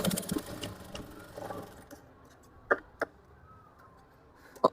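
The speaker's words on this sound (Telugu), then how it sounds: "ఇలా వచ్చినప్పుడు దీనిపైన ఒక స్టిచ్ వేసుకోవాలి" A sewing machine stitching a blouse runs in a short whirring burst that fades, followed by a few sharp, isolated mechanical clicks close by in a quiet room.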